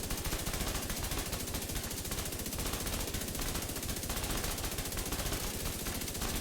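Light machine gun in The Division 2 firing continuously at targets on a shooting range, a dense rapid rattle of automatic fire sustained at steady loudness throughout with no talk.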